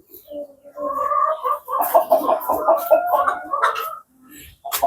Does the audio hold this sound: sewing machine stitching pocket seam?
no